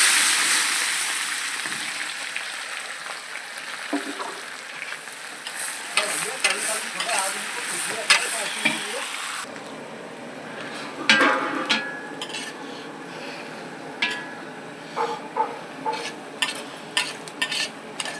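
Chopped green chillies and onion hit hot oil in a pan for a savoury broken-wheat khichdi, a bright sizzle at first that settles into steady frying, with repeated stirring clacks and scrapes close up and no voices.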